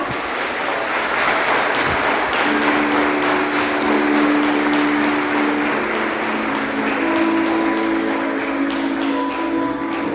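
A church congregation applauding during a Portuguese-language family worship service, with broad steady clapping that fills the room for the whole stretch, while sustained musical tones rise and hold underneath.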